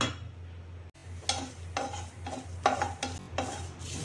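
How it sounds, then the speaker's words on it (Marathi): Roasted sesame seeds are scooped out of a hot pan: a few short, close scraping strokes come in separate bursts over a low background hum, with no one speaking. "आता आपण तीळ काढून घेऊ."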